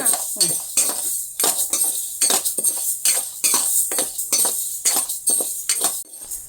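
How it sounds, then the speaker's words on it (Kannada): Moong dal dry-roasting in a pan, stirred with a metal spoon that scrapes and clinks against the pan in quick, regular strokes, close and clear with no talk. "ಹೆಸರು ಬೇಳೆ ಹುರ್ಕೊಂತೀನಿ. ಅದನ್ನು ಹಂಗೆ ಹುರ್ಕೋಬೇಕು."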